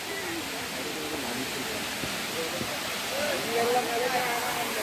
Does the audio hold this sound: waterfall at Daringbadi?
yes